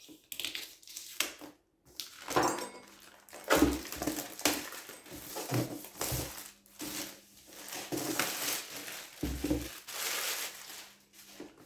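A sharp knife slicing and tearing through the plastic wrap on an NZXT Kraken 120 box, heard as irregular crackling, crinkling bursts with short pauses, close up and without speech.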